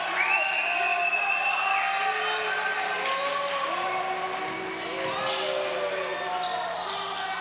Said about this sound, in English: Pretty vocal crowd in here.